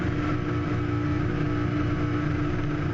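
A car engine revs hard and steadily during a burnout competition at Summernats, a loud, continuous droning roar held high without pause, close and dense with low rumble.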